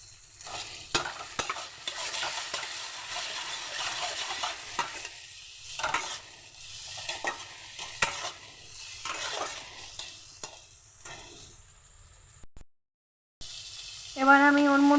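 Tomato and onion with a little salt frying and being stirred in a pan, continuous close sizzling with frequent scraping stir strokes, a brief pause near the end followed by a sharp new sizzle.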